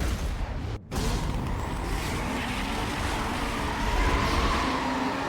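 A car engine roars steadily in the racing video game Need For Speed Most Wanted, a loud, continuous drone with a brief dropout near the start and rising pitch later, no talking.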